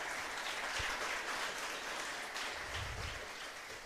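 An audience at a church sermon applauds steadily, a dense, even wash of clapping that stays constant with a slight fade toward the end.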